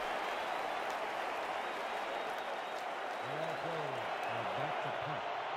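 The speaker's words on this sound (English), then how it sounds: "Crowd getting loud at Pride Rock" A football stadium crowd at Pride Rock roars loudly on a fourth-and-inches play, a constant wash of cheering noise with faint low vocal calls rising near the end.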